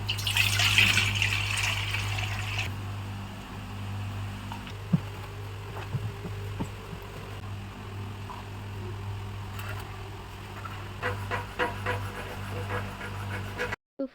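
Water running from a tap into a jug, a steady gushing trickle that carries on for most of the stretch, alone with occasional small knocks and clatter.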